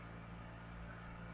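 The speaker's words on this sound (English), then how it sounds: "I got the washer going right now." A washing machine runs steadily in the background, giving a constant low motor hum and drone with no breaks and no voices.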